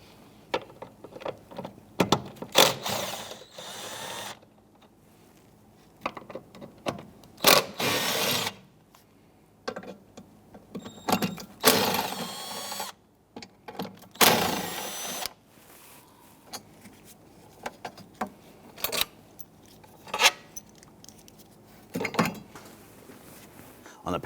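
Power tool work removing 10mm bolts from a bracket in the cowl area of a 2011-2021 Jeep Grand Cherokee 3.6L, heard as repeated short bursts of whirring drill or ratchet noise separated by quieter pauses, close up.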